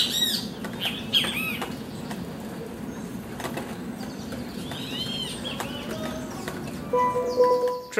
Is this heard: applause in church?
no